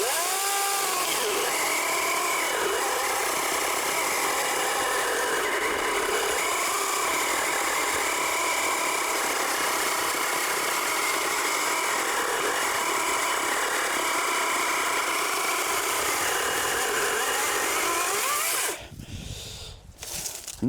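Wild Badger 12-inch battery chainsaw cutting through a felled tree, a loud continuous whine with rising and falling pitch as the chain bites, stopping abruptly near the end.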